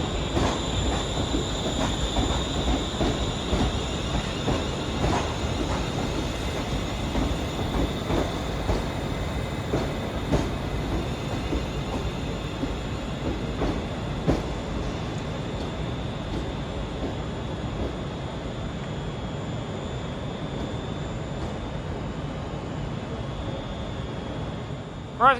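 Two trains roll into adjacent platforms at Glasgow Central station, a continuous rumble of wheels and clattering joints under the station hall, with occasional metallic squeals and a steady high whine above the noise.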